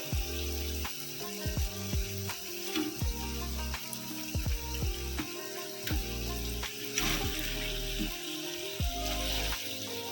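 Fried chicken momos tossed into a pan with sugar sizzle and hiss steadily, with frequent clanks and scraping of stirring, close and continuous.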